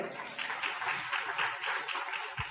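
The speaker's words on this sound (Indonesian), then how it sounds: "mohon aplaus buat beliau" Audience applause at a motivational talk, a steady wash of clapping at moderate distance that holds for a couple of seconds.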